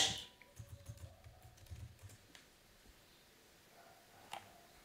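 A computer keyboard is typed on in a short, quiet burst of quick clicking keystrokes, like entering a search term in a design app. Near-silence follows, broken by one more faint click.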